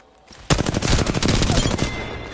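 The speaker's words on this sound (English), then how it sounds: "They spotted me. I'm taking shots." Rapid automatic gunfire in Apex Legends on the World's Edge map, a dense burst of loud, close shots firing continuously for about two seconds after a brief quiet lead-in.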